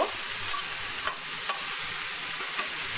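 Chopped pointed gourd and snake gourd frying in a pan, giving a steady close hiss of sizzling with a few soft stirring scrapes, with no voices.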